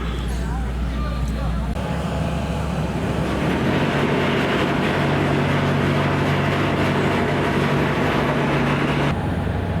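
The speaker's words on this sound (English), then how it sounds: "that's the bow thruster." A boat's bow thruster runs at Laggan Locks on the Caledonian Canal, a steady, loud rumbling drone with a low hum that holds for most of the stretch before cutting off near the end, with a voice speaking over it.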